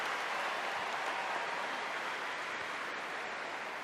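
Home crowd applauding at a women's international football match between Germany and the Netherlands, a steady, dense wash of clapping filling the stadium at a constant level with no talk over it.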